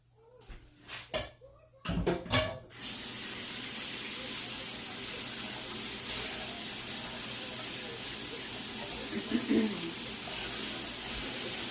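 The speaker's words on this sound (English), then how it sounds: "Get some water in that so that when I come back to scrub it out, it's a lot easier to handle." Tap water running into a dirty pancake pan left to soak, a few knocks and clatters first, then a steady loud hissing stream that fills the rest of the stretch, with one brief clunk near the end.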